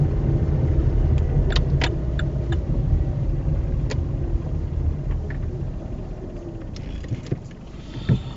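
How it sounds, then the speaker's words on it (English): A car pulling away slowly on a hill start after the handbrake is released, its engine a steady close low rumble from inside the cabin with a few faint clicks and no talking. "Now I'm going to release my handbrake, and you can see the cars moving slowly."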